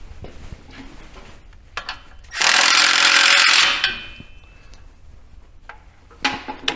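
A power tool runs in a loud burst for about a second and a half while a bracket bolt is threaded up and locked down on a 2014-2024 GMC/Chevy 6.2L truck, surrounded by quieter metallic clicks and taps.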